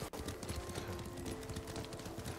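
Horse hooves clop at a steady riding pace through the Ghost of Tsushima video game, a continuous rhythmic beat under game ambience and a brief voice.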